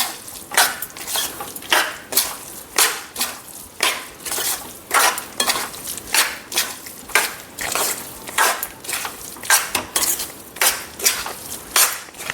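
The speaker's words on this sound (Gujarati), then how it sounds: "તો હવે આપણે ગોળ ઉમેરી લઈશું અને ફટાફટ રીતે આ રીતે મિક્સ કરી લઈશું ગોળને" A spoon scrapes and knocks in quick rhythmic strokes as jaggery is stirred into a sukhadi mixture in a pan, close, loud and steady with no talking.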